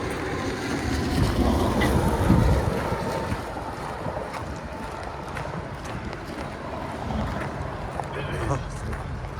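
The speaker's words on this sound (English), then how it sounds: "Wind wouldn't quit" Strong, cold wind buffets the microphone in a steady, rumbling roar with gusts, over open water with waves washing nearby, beneath Interstate 81 on the Appalachian Trail near Damascus, Virginia.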